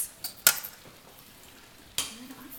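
Dry pancake ingredients for pumpkin pancakes get mixed in a bowl with a utensil, which gives a couple of sharp clinks against the bowl between soft, quiet scraping and stirring.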